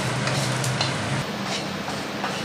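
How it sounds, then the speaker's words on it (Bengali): Black mustard seeds and dried chilli fry in hot oil as a tempering for a young hog plum chutney, a steady close sizzle and crackle running unbroken throughout with no voices. "এইবার কালো সর্ষে আর শুকনো লঙ্কা একটুখানি ভেজে নেব।"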